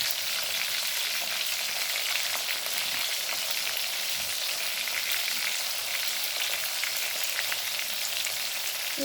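Chillies frying in a frying pan give off a dense, continuous sizzle and crackle, loud and close, steady throughout with no talking.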